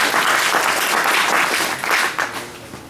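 An audience at a zero-budget natural farming training session claps in a dense, steady burst of applause that fills the room, then thins slightly toward the end, with faint voices underneath.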